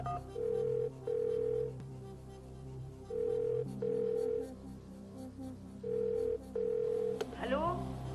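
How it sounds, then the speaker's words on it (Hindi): A telephone rings through on a quiz show's phone-a-friend lifeline, with three pairs of steady electronic ring pulses repeating at an even pace over low studio background. "कविता जी को फोन लगाया जाए।"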